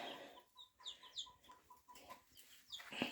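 Chickens cluck and chirp in a steady, irregular stream of short calls, fairly close, with no talking.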